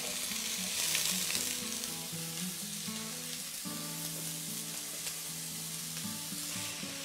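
Onion fries in a pot with a little corn or sunflower oil, a soft, even sizzle running throughout beneath tonal background music.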